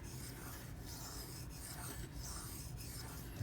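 Steady, even rasping of a Benchmade 9400 knife blade being sharpened on its shoulder with very light pressure, a continuous close stroke sound with no talking.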